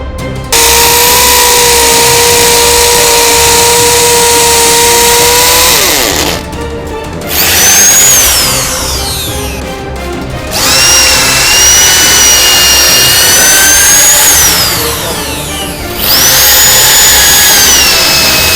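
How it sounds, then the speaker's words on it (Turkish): A Bosch Professional GSB 1300 power drill whines loudly through several bursts, its pitch rising and dropping as it bites into material, with short pauses between holes. "şimdi makineyle birkaç delme işlemi yapacağız"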